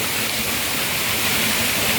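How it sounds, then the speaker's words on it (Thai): An artificial waterfall rushes in a loud, steady hiss, close and unbroken, like a small cascade pouring into a pool. "เป็นน้ำตกจำลองนะครับ"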